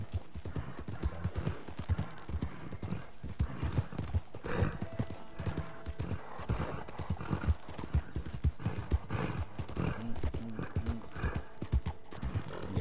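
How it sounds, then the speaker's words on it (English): A horse galloping in Red Dead Redemption 2, rapid rhythmic hoofbeats pounding steadily and close throughout, with a brief whinny and light tack and mechanical noise mixed in. "he does gallop a little bit slower when he's not sprinting"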